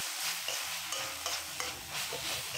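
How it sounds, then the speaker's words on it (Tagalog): Pork binagoongan with vinegar is stirred in a hot pan, a steady close sizzle broken by several rhythmic spoon scrapes and light knocks over a couple of seconds, without any speech. "Ayan, pagkatapos ng 1 minuto, haluin na natin ito."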